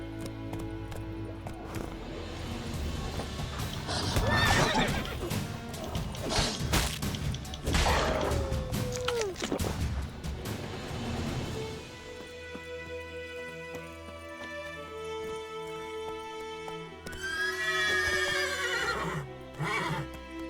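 A horse in The Witcher 3 whinnies several times amid thudding hooves and clattering impacts, with a long drawn neigh midway and another near the end over a sustained musical drone.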